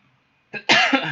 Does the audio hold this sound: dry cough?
yes